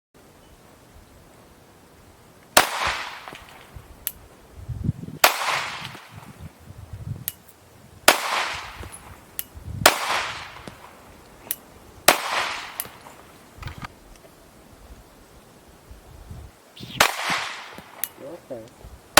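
Pistol shots fired while zeroing a red dot sight at a target, about half a dozen sharp cracks spaced a few seconds apart, heard at a muffled distance with a voice speaking between them.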